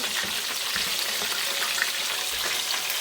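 Chicken and red chili paste fry in a pan with a steady, close, bright sizzle that crackles evenly throughout without pause.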